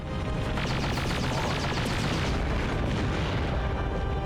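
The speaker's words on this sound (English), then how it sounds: "the explosions leave something to be desired when you're Yeah. blowing stuff up" Video game explosions from Terminator 3: Rise of the Machines boom in a dense, continuous barrage, loud, layered bursts and rumbling blasts overlapping with no pause.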